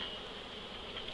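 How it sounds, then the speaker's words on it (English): Honeybees buzzing from a nuc being installed into a hive, a faint, steady, continuous drone of many bees close by with no talking. "So there's a lot of bees in there"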